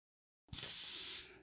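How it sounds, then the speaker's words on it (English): Short hiss of water sprayed through an airbrush: silence, a soft pop at the trigger, then a steady close airy spray lasting under a second before tapering off. "Spray a little water through the airbrush"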